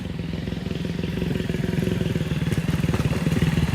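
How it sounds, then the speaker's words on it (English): A motorcycle on a Jamaican road, its engine a steady, close mid-pitched pulsing drone that holds loud for a few seconds as it passes. "Bike a come through"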